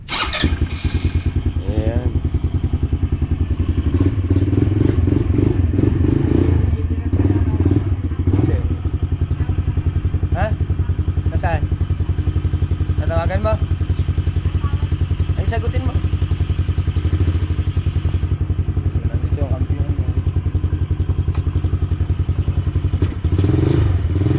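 A vehicle engine runs loudly and steadily up close, with a rough, throbbing idle and occasional clatter. Voices speak over it throughout.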